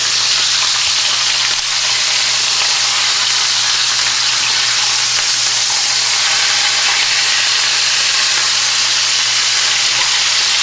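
Chicken breast fries in a pan with a loud, continuous sizzle and hiss, steady and close for the whole stretch, with no talking over it.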